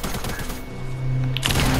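A short, rapid burst of gunfire in the battle royale game Fortnite, crackling shots at the start, a brief lull, then another loud volley near the end, all within about two seconds.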